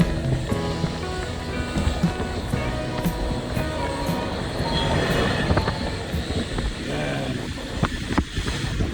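The Glacier Express, a Swiss train running between Zermatt and Chur, rumbles and clatters steadily with occasional faint wheel squeals, heard from inside the carriage with voices talking over the running noise.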